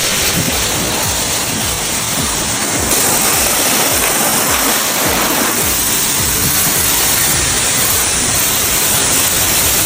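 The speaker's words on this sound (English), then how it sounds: "Rinsing it off" Water rinses off the interior of an abandoned car that had been left under water, a steady loud hiss and splash running unbroken through the whole stretch with no talk.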